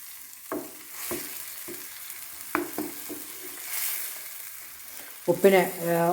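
A fish curry spice mix of powders and salt heats on a high flame, sizzling and hissing steadily, with soft stirring knocks and a brief scraping rattle near the end; nobody speaks.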